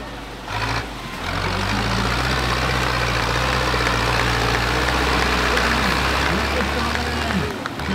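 A tractor engine runs loud and steady at a tractor race, a heavy low droning note with a shifting pitch, while an announcer talks over it.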